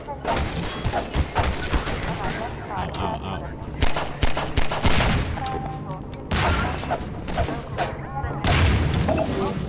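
Gunfire from enemy combat robots in Half-Life 2, with repeated loud bursts and sharp shots spread across the clip over a busy game mix, with shouting voices in places.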